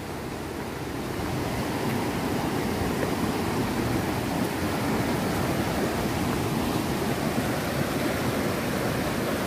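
A waterfall near Poiana Mărului in Caraş-Severin roars in a constant, dense rush of falling water that holds loud and unbroken throughout.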